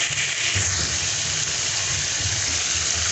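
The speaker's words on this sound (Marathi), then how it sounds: "मी आता ह्याच्यामध्ये पाणी टाकून घेते।" Water pours steadily into a pan of soya chunk curry, a continuous close rushing gush that holds at an even level for the whole few seconds with no pauses.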